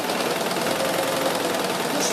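A sewing machine runs steadily while stitching the body of a cloth doll, a fast, even mechanical whirr and patter that holds without a break, close and moderately loud.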